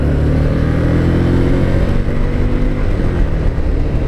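A Harley-Davidson Street Rod 750 motorcycle with low mileage drones steadily on a test ride, its engine loud and close with a constant rumble and faint wind, no talking.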